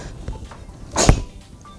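A single sharp sneeze bursts out near the middle, loud and close, set against a quiet indoor room with faint background noise before and after.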